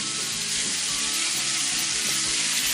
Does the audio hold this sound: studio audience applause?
no